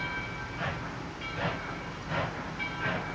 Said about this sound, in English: I can hear the railroad over there